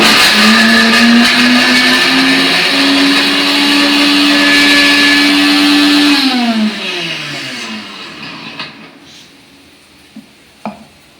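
A kitchen mixer grinder whirs loudly and steadily while grinding garlic and chili powder, then winds down in pitch as it switches off, followed by a few faint clicks and knocks.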